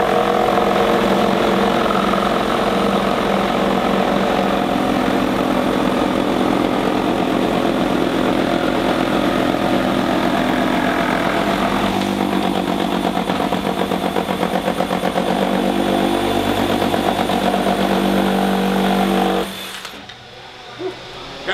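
A Milwaukee M18 FUEL Super Sawzall 2722-21HD with an axe blade and a 20-pound weight cuts through double-stacked 2x12 lumber. It gives a loud, continuous reciprocating buzz for about nineteen seconds, then stops abruptly.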